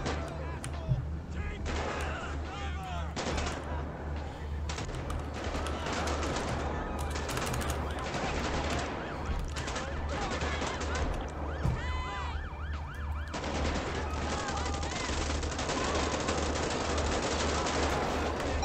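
Video game gunfire in GTA 5 police patrol gameplay pops repeatedly under constant wailing police sirens, with someone talking over the chaotic mix.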